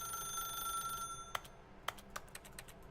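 Telephone ringing in The Stanley Parable: a few sharp, bright rings stand out at moderate level over a steady tonal hum, with no talking.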